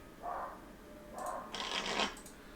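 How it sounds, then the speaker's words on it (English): Several short, crisp bursts of card-shuffling sound from a card video game, the last louder and longer, heard alone with no speech. "this whole group shuffles back into the deck."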